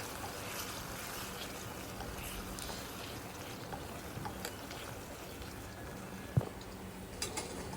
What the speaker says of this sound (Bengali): এই চালটা এখন আমি ভালো করে ধুয়ে নিব